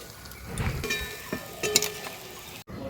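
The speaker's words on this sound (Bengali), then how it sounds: "আর অতি অবশ্যই কিন্তু জালটা কমিয়ে রেখে ভাজতে হবে।" Kamranga pitha frying in oil over a low flame, a steady soft sizzle with light stirring clinks and scrapes, fairly close and continuous with no talk.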